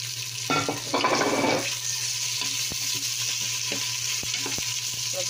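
Siomai frying in a pan for a misua breakfast dish: a steady, close sizzle with a louder burst of crackling and stirring near the start, then continuous hissing with a few light clicks.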